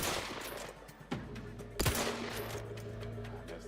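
Gunfire in a video game: a sharp crack around the one-second mark, then a louder, heavier shot near the two-second mark, each trailing into a short rumbling tail over quiet game ambience.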